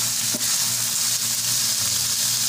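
Pink salmon sizzles and crackles in a frying pan, a steady close spatter of hissing oil with faint clinks, and no voices.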